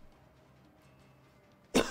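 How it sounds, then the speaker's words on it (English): A single sharp cough bursts out close to the microphone after a quiet stretch of faint room noise, loud and abrupt near the end. "So I'm coughing a bit."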